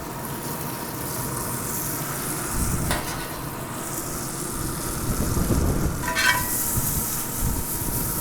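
Butter sizzling in a hot cast iron pan on a smoker, a steady soft frying hiss with a couple of brief scraping stirs, close and alone.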